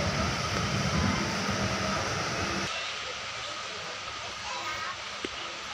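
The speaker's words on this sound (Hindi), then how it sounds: "निहालगढ़ ट्रेन इतनी लंबी कि प्लेटफॉर्म से पहले रुक जा रही है।" Sadbhavna Express rolling slowly into Nihalgarh railway station, a loud steady rumble of wheels and carriages that eases and quiets partway through, with a faint clank near the end.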